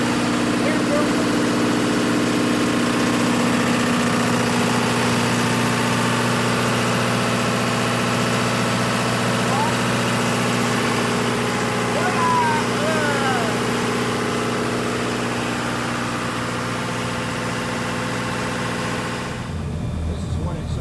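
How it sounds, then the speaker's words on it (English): The engines of a motor yacht run at full power, heard from inside the dining room as a steady, loud low drone and vibration that continues almost the whole time before dropping away at the end. "This is what it sounds like in the dining room, and the engines are at full power."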